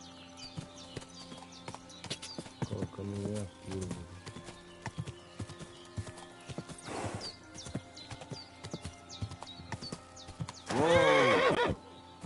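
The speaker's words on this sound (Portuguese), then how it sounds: "Coitado do cavalo." A horse gallops in the video game Kingdom Come 2, with a steady run of hoofbeats, short whinnies partway through and a loud, drawn-out neigh near the end. Someone speaks briefly over it.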